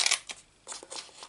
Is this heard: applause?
no